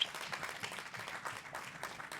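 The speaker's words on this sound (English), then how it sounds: "please, round of applause for everybody" Faint applause from an audience at a panel discussion, with scattered clapping that holds steady for about two seconds and no voices over it.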